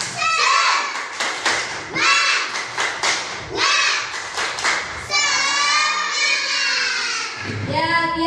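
Schoolchildren in a classroom clap together in a rhythmic cheer, bursts of sharp claps in a patterned beat mixed with their chanting voices, followed by a stretch of sung or chanted call.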